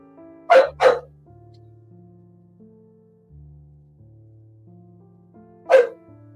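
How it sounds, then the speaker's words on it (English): A pet dog barks outdoors, wanting to come inside: two quick barks close together, a long pause over a soft background tone, then a single bark, fairly loud and near. "I think my dog is barking because he wants to come in."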